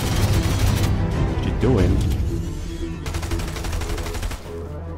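Rapid gunfire bursts in a video game crackle loudly and continuously, with a short laser-like sweep partway through, while a player talks over the shooting.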